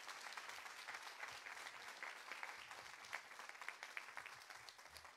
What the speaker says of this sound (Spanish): Dele palmas fuertes al Señor si puede hacerlo.